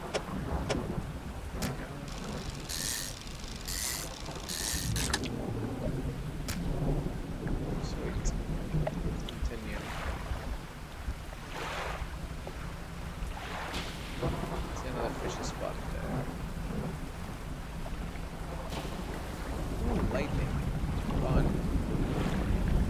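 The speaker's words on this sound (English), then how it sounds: "We're having fun fishing in the stormy sea." A stormy sea in the fishing game Dredge carries constant rushing wind and waves around a boat, with low thunder rumbles rolling underneath throughout, loud and dense.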